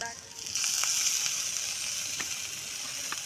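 Masala hisses and sizzles in hot oil in a pan, a steady crackling fry with faint scraping as it is stirred, heard close up.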